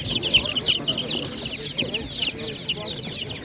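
Small chicks about a week and a half old cheep continuously at an animal market in Nadvirna, shrill overlapping peeps close by over low crowd murmur.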